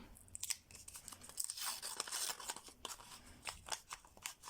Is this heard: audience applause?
no